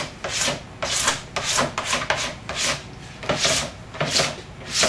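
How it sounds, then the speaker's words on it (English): Plastic scraper rasping wax off a snowboard in repeated close, steady strokes, a dry scratchy rhythm about two or three per second with no talking. "You want to scrape almost all the wax off so that there's just a thin layer left."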